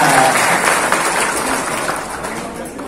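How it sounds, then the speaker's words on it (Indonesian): A loud burst of crowd applause at a Betawi community gathering of the Forkabi organisation, close and full at first, then gradually fading, with some voices underneath. "Tepuk tangan buat Betawi."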